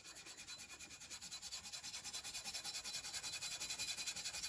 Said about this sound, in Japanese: ちょっと手で磨いとくかな。